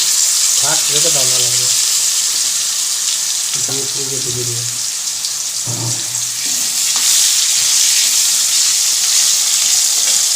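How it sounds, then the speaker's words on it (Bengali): Potatoes dropped into hot oil with tempered spices crackle and sizzle in a steady bright hiss, while someone speaks in short phrases over the frying. "ফোড়ন পুড়ে এসছে এবার আলুগুলো ছেড়ে দেবো"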